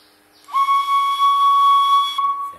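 A Thai khlui lip flute plays the note Mi, one clear breathy tone held steadily for about a second and a half, close and solo with a soft attack and slight waver.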